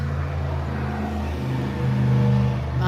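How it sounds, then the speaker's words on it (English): A large truck drives past nearby at night in a city with a low, steady engine rumble that swells briefly before fading. "That truck made noise and it was kind of big."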